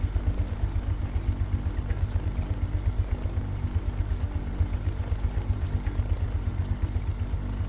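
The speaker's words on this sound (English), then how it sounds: "the hot rod engine thing sounds good" A hot rod engine idles in the video game Lightyear Frontier, a steady, fast low throb that repeats evenly and stays moderately loud throughout, with no voices.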